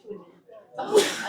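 A single sharp sneeze bursts out near the end, preceded by a soft inhaling breath, close and fairly loud in a kitchen setting.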